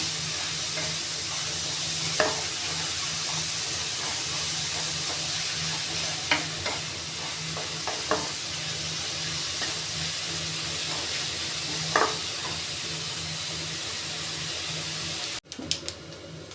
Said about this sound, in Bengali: গাজরটা ঘিয়ের মধ্যে একটু নাড়াচাড়া করে নিতে হবে এভাবে